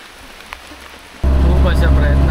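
Monsoon rain pours down by the Mumbai-Goa highway near Kolshi, quiet at first and then suddenly a loud, close, steady hiss of heavy rain and spray.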